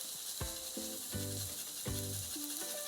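Chopped onions, garlic and ginger fry in a pan with a steady, close hiss of sizzling, broken every half second or so by short tonal scrapes and knocks as the food is stirred.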